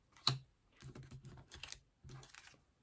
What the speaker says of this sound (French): Je tire 3 cartes supplémentaires.